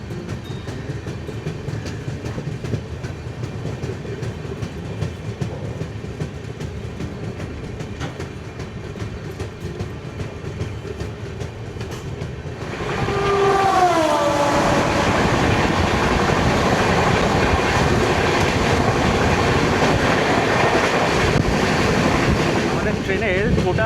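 A passenger train runs on its tracks near Shaktigarh in West Bengal, a steady loud rumble of wheels and carriage noise that swells louder and brighter midway, with a faint voice underneath.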